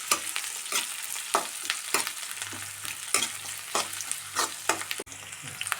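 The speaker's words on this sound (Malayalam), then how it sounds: "വെളുത്തുള്ളി, കുറച്ച് വേപ്പില നമുക്ക് വാടി കിട്ടണം." Garlic and curry leaves frying in a pan for a tapioca and egg curry, a crackling sizzle punctuated by repeated quick scraping stirs, close and lively, with no one talking.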